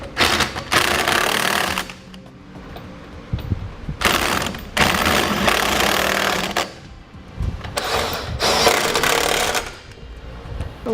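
A power tool fitted with a 19mm socket snugs up the hardware on a trailer hitch receiver being installed on a 2011 Toyota Sienna. It hammers and rattles loudly in three long bursts with brief quieter gaps between them.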